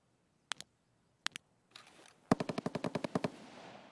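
Escape From Tarkov gunfire: a few isolated single shots, then a rapid automatic burst of about a dozen sharp cracks, close and loud.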